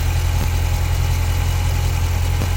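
A 2020 Dodge Challenger R/T Scat Pack's 6.4-liter Hemi V8 idles steadily close by, a deep low rumble with constant vibration and a slight pulse, no voices over it.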